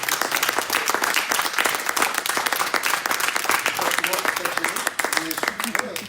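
A crowd at a youth church meeting claps: sustained, loud, dense applause from many hands, with voices mixed in beneath it and a slight easing near the end.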